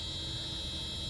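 Warning buzzer of a 1987 Mercedes-Benz 560SL with the ignition key turned to on, a steady continuous high-pitched electronic tone sounding close inside the cabin under low background hum, with no talk.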